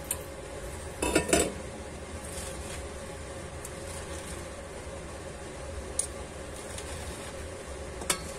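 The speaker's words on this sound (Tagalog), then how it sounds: "At imimix na natin yung dressing sa ating gulay." Dressing is tossed through a bowl of vegetable salad, with clinks and scrapes of utensils against the dish in a short cluster early on and a few sharp taps later, over a quiet room.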